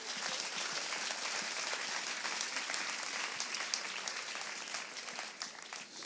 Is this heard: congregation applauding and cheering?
yes